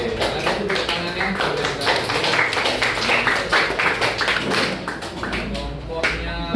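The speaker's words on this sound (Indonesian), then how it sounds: "Oke, kalian tepuk tangannya." Students clap their hands after a classroom group presentation, a dense, sustained patter of many claps from a sizeable group, steady and fairly loud across the whole stretch with a slight dip near the end.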